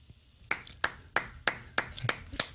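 A single person clapping slowly and deliberately, about seven sharp, close claps spaced roughly a third of a second apart against a quiet background.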